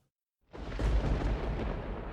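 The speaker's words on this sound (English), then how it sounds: "A good storm." A deep rolling rumble of thunder swells in after a moment of silence and keeps growling steadily, loud and broad.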